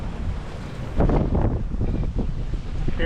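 Strong wind roars across the microphone at sea aboard a sailboat near Carriacou after a tropical storm, a loud, steady, rushing gust mixed with the wash of waves, surging louder after the first second and staying heavy with no talk.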